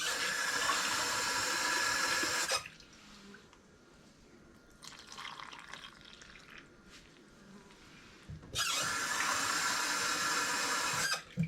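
Hot tap water pours into a measuring cup in a home kitchen while a tamale pie is being made. It comes as two loud, close bursts of rushing flow, with quieter kitchen handling noise between them.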